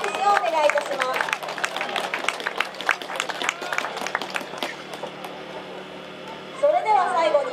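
Audience applause for a flag football MIP award winner at a Japan–Korea friendly American football game ceremony: dense, steady clapping for several seconds that thins out, with a voice talking over the start and end.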